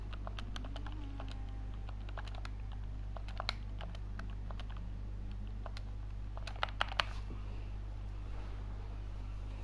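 Typing on a computer keyboard during an online racing league session, scattered key clicks in irregular bursts over a steady low hum, moderately close and fairly quiet.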